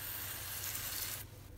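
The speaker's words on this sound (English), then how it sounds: "So you see how I sprayed and that white stuff is gone?" Broad, steady hiss of a spray bottle misting water onto microgreens on a hemp pad for about a second, then cutting off to a quieter background.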